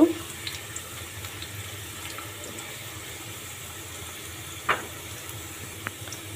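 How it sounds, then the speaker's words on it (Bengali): Dried red chilies and garlic fry in a pan for a spicy star fruit pickle, giving a steady low hiss with an occasional faint clink of the pan. "শুকনো মরিচটা দিয়েও একটু ভেজে নেব"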